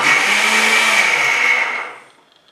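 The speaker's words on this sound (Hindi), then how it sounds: "मिक्सी में से हम पीस लेंगे, काजू और दूध का पेस्ट बना लेंगे।" A mixer grinder grinding cashews with milk into a paste whirs loudly and steadily for about two seconds, then winds down and stops.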